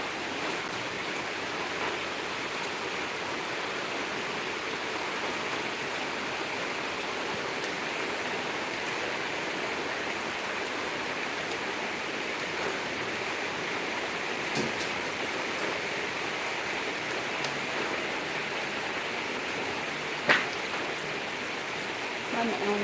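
Steady rain pours down in an outdoor spot where a small child is bathing in it, a continuous dense hiss with a few faint thumps and a brief sharper tap near the end.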